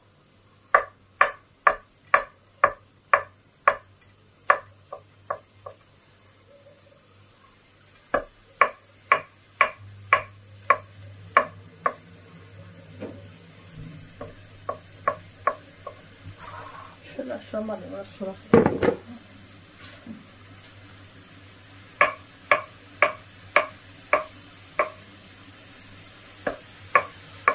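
A knife chops mushrooms on a cutting board while onions fry in a pan nearby: bursts of quick, crisp rhythmic taps with short pauses, a low sizzle underneath, and a voice speaking briefly in the middle.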